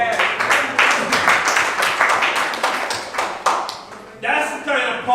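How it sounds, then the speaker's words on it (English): Audience applause at a motivational speech, a dense stretch of clapping lasting about five seconds with a brief dip and renewed burst near the end, mixed with voices. "Give yourself a round of applause."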